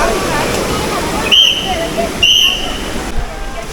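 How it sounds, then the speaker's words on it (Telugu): Steady broadband rush of falling water at Jalatarangini Falls in Maredumilli fills the whole clip, with faint crowd chatter and a couple of brief high whistles or chirps mixed in. "సో ఇదే ద బ్యూటిఫుల్ వాటర్ ఫాల్స్,"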